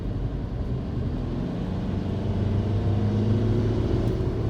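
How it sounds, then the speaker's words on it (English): Volkswagen TDI diesel with a DSG gearbox accelerating on a country road, heard from inside as a steady low engine drone that rises in pitch and swells slightly louder toward the end, with no talking. "I think it went down to 4th there. That was a really nice downshift."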